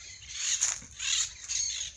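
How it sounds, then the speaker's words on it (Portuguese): Macaws and parakeets squawk in a cerrado nature reserve, three harsh, rasping bursts of calls at moderate distance over a quiet outdoor background, with no one talking. "Olha o tanto de passarinho de arara, de piriquiti, né?"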